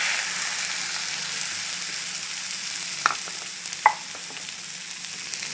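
Two eggs beaten with salt and pepper are poured into the middle of a pan of vegetables for pasta masala and scrambled, giving a steady, close frying hiss with a couple of sharp utensil clicks.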